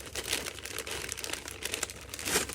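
Paper wrapping is folded up around a sourdough loaf, giving soft, close crinkles and rustles in short bursts over about two and a half seconds. No talking.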